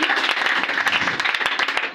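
A church congregation claps and applauds in a dense, steady wash of hand claps that holds loud for the full two seconds, with a few sharper individual claps standing out.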